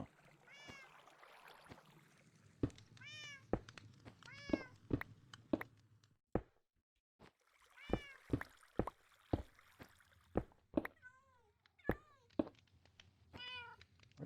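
A cat in the Minecraft video game meows again and again in short rising-falling cries, mixed with sharp clicks and soft in-game ambience, fairly quiet overall.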